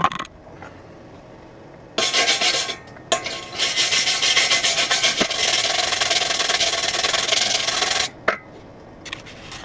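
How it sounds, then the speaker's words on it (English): A wire brush scrubbing a freshly made weld, harsh raspy strokes in two long bursts separated by quiet, close and loud with no talk. "let me get my little wire brush out and I'll show you"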